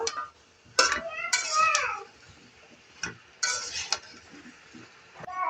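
A 1.5-year-old girl calling out to her mother from nearby, short high-pitched vocal bursts in a few separate calls, with light kitchen clinks between them.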